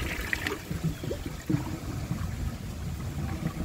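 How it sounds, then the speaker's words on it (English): A 1995 Procemex toilet flushes with a steady, rushing wash of water and a low gurgling churn, continuous and fairly close throughout, with a towel held in the bowl during the flush. "I am going to give it another flush, and I'm just going to angle the dish towel and hold it as it flushes"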